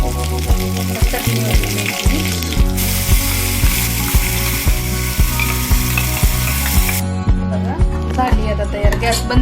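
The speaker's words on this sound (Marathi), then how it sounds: "आता मी फोडणी करते" Spices for a chole chutney tadka crackle and sizzle in hot oil, a bright, steady hiss that cuts off sharply partway through, playing under rhythmic background music.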